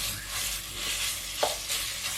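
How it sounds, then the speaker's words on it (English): Marinated beef sizzles in a hot soup pot over medium-high heat, a steady close crackle with a single sharp utensil tap partway through. "Place a soup pot over medium-high heat and add the marinated beef."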